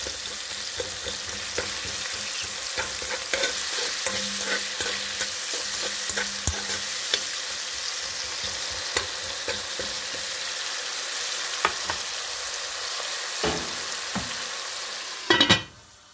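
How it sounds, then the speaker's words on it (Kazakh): Bell peppers, onion and meat fry on low heat in a pot with a continuous steady sizzle, broken by occasional stirring clicks and a few louder knocks near the end. "Астын жай отпенен осы өлгенше қуырамыз."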